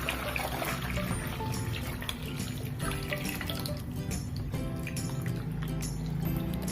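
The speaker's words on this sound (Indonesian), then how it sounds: "Kemudian singkong ini saya sirami dengan air." Water poured over cassava in a cooking pot, a continuous close splashing and trickling stream that stays fairly steady throughout, with no voices.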